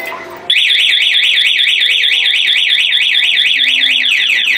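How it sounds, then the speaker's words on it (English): A Honda Beat Fi motorcycle alarm sounding: a loud, rapid warbling electronic siren that starts abruptly after a brief moment and repeats its rising-falling sweep steadily without pause, up close. "Basta nag-alarm yung motor kung saan ihinto yan."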